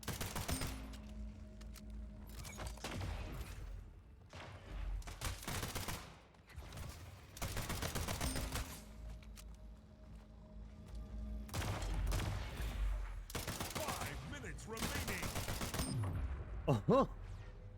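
Pistol gunfire in the arena shooter Splitgate, with sharp bursts of shots coming in clusters between quieter gaps, mixed with game effects and a few thumps, while players talk over the action.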